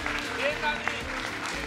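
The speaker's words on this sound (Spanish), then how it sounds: "Un aplauso para Daniel." Studio audience applause on the Peruvian TV competition show Esto es Guerra, moderate clapping from a crowd that runs steadily under music and a host's voice.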